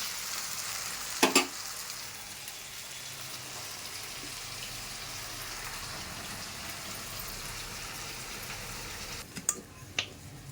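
Potato pieces fry steadily in hot oil, a continuous close sizzle like light rain, broken by a couple of brief clinks of a utensil near the start and end.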